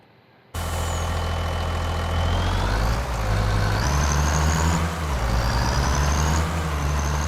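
A farm tractor's engine starts up and runs with a steady loud diesel drone, the pitch shifting slightly as it idles and revs nearby, with no talking.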